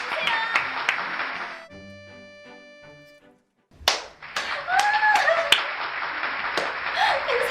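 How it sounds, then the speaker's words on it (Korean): Hand clapping greets the final model at the close of a home-wear pajama fashion show, with dense claps over music, a quiet pause with a few sustained tones, then a loud renewed burst of clapping and cheering. "뜨겁게 큰 박수 맞이"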